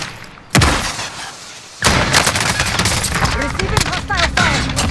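Gunfire rips through a Call of Duty Warzone Resurgence match: a loud sudden burst, a pause, then a sustained rattling fusillade of rapid shots close up, with voices talking over the game sound.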